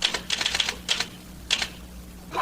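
Rapid mechanical typewriter keystrokes clatter in uneven bursts, close and crisp, with short pauses between runs of keys.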